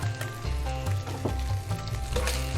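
Bacon fries and renders in a pan, a dense crackling sizzle with popping spatters running continuously alongside a low hum.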